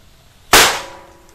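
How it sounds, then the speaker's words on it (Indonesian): A mercon tikus firecracker goes off in a metal wok with one loud, sharp bang that decays in a short, ringing, hissy tail, following quiet background. "selanjutnya kita nyalakan tiga mercon tikus tor sekaligus di atas wajan ini guys"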